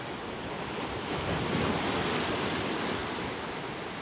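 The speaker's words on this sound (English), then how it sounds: "This is the seaside, straight away." Sea surf rolls onto a beach in Ortigia, Syracuse, a continuous broad wash of breaking water with wind buffeting the microphone and swelling slightly midway, with no voices.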